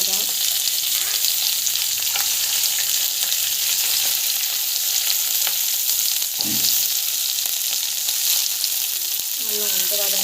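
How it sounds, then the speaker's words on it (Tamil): Onion and chili sautéing in hot oil for a chutney, a steady loud sizzle that fills the whole stretch with a few stirring knocks and scrapes near the end, no voices. "ஆயில் போட்டு ஆயில் நல்லா காய்க்கும். ஸோ ஆனியன், மிளகா,"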